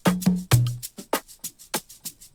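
An Afrobeats mix with the attack boosted on an FL Studio transient processor plays a punchy, bouncy percussion pattern of tight, sharp hits, led by a few deep kick thumps, fairly quiet with no talk.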